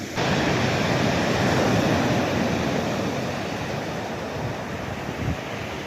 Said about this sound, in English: back at shore, them waves sure are powerful